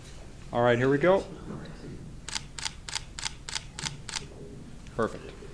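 A camera shutter fires about seven quick clicks in a steady burst as a group photo is taken at a city council meeting, following a brief spoken voice, over a quiet room.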